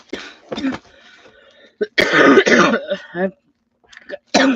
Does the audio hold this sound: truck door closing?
no